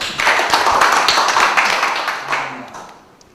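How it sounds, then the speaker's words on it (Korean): An audience at a policy forum on relocating the Gwangju military airport, held in a National Assembly members' hall, claps for several seconds in a dense, steady burst that gradually fades out. "박수 한번 부탁드립니다."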